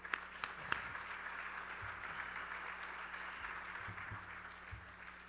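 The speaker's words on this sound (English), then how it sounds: "Give them a round of applause, please." Audience applause at an award ceremony for a music executive honoree: a steady wash of clapping throughout, with a few sharper claps near the start and faint low voices underneath.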